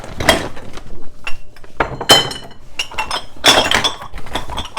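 Glass jars clink and clatter as they are handled and moved around during kitchen decluttering, with sharp close knocks and rattles coming in irregular bursts and short gaps between them.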